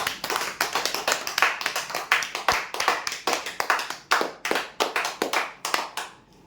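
A crowd at a lottery prize draw gives loud applause for a winner, a dense and uneven run of close hand claps that carries on for several seconds and then fades out.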